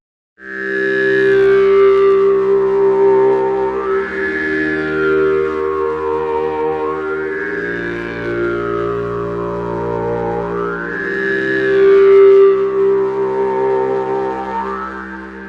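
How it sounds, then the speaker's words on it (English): A droning wavetable synthesizer tone with a formant filter slowly sweeping up and down, giving a talking, wah-like character in repeating waves. "So now let's take a listen to the Formant filter."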